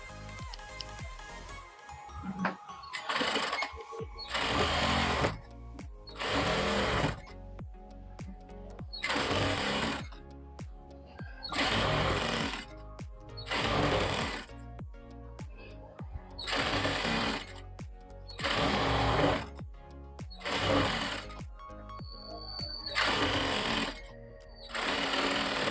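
A sewing machine stitches along a single-folded strip of blouse fabric, running in about ten loud bursts of rapid needle chatter separated by short pauses.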